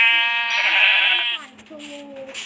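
A sheep bleats loudly and close with a long wavering cry, followed by a quieter, shorter bleat, with faint talk around it.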